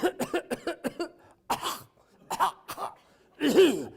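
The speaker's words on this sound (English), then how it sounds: "we'd cough and hack and sputter and spit." A run of short, harsh coughs in quick succession, followed by several louder hacking, throat-clearing bursts with pauses between them.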